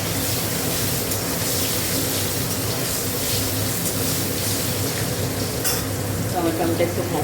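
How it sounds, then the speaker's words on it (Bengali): Tomato with salt sizzles and fries steadily in a pan, a continuous close hiss with occasional stirring scrapes throughout. "টমেটোটা একটু ভাজা"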